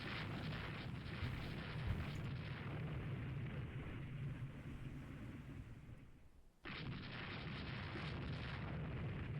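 Naval gunfire in the warship game Rule the Waves 3 during a battlecruiser engagement, a dense rumbling roar of distant cannon booms and explosions, steady and heavy, briefly dropping out before resuming.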